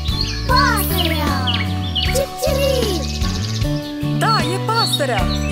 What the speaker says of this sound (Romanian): Pasărea, este Cip-Cirip